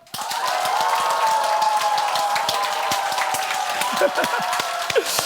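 A large church congregation at Sunday worship bursts into loud, sustained clapping and cheering, dense rapid applause that holds steady, with a few shouts rising toward the end.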